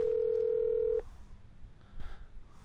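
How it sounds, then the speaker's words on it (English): A telephone rings in the multiplayer survival shooter Vigor, a single steady electronic tone held for about a second before cutting off abruptly, leaving faint low background rumble. "Don't answer the phone, because it gives away our position."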